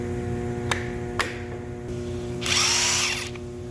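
A DeWalt 20V impact wrench rated at 1200 ft-lb, with two sharp clicks followed by a short, loud whirring burst, heard up close with no talking.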